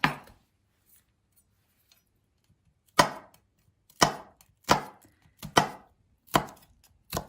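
A knife chops through a large garlic clove on a board in a home kitchen, cutting it into long narrow bits; one sharp chop, then a pause, then six or seven crisp, close knocks in an uneven rhythm, with no talking.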